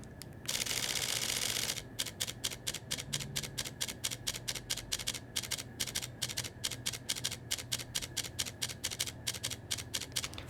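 A Fujifilm X-T5 camera fires a fast burst at 15 frames per second, a long run of sharp mechanical shutter clicks in rapid, even succession after a short burst of hiss, close and clear.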